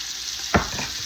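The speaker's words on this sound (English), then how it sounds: "Hear that sizzle?" Cabbage and onions sizzle steadily in a hot pan with a faint hiss, broken by one brief scrape or clatter of stirring; no talking.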